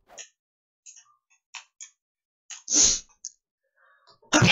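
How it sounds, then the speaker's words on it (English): A single loud, sharp human sneeze bursts out amid scattered faint ticks and clicks, followed by another abrupt noisy burst at the end. "My apologies for that sneeze."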